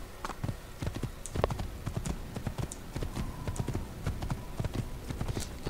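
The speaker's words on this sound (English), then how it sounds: "Come on, get the horse." Horse hooves clip-clop steadily in the video game Assassin's Creed, a brisk, continuous run of close, clattering footfalls with faint background ambience.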